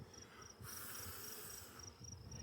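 Honeybees at an open hive during an egg check, a close steady buzzing with a high pulsing whine that rises and falls.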